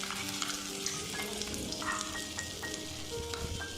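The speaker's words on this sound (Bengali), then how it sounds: "এই চামচে করে আমি পেস্টটাকে তেলের মধ্যে দিয়ে দিচ্ছি" Spoonfuls of pumpkin seed paste fry as fritters in hot oil, a steady close sizzle and crackle that carries on alone without any talk.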